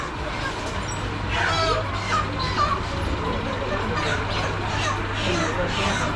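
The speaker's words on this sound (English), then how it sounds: "Yeah, chickens," Chickens cluck and squawk over a busy, noisy market background in Sefrou, Morocco, with a low steady hum, the calls coming in scattered bursts.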